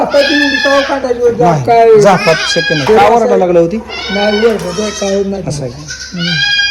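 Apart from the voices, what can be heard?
goats bleating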